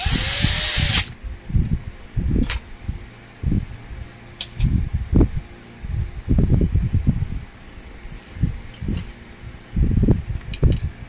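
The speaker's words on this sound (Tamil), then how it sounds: "இப்போ நம்ம ஈக்குவலாக 4 பக்கமும் ஸ்க்ரூ போட்டுட்ருக்கோம்." Screws being driven one after another into an Usha table fan, each burst a short whirring buzz in a repeated rhythm with brief pauses between, close and fairly loud, with no talking.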